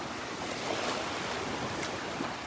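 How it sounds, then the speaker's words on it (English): Small ocean waves breaking along the edge of a sandbar on a calm morning beach, a continuous soft wash of surf mixed with wind noise on the microphone, steady and fairly close, with no voices. "Just some little waves as they break on the edge of the sandbar."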